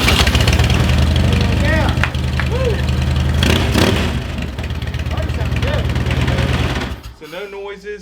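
A rebuilt Harley motorcycle engine, a burnt bike turned custom bagger, fires up and idles loudly, a dense steady clatter that cuts out near the end, with brief talk over it.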